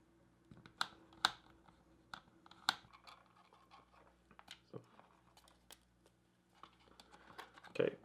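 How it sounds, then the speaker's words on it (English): Screws being backed out of the underside of an iCharger 406 Duo charger, heard as sparse sharp clicks and scrapes at close range over a quiet background hum. "Take all these screws off here."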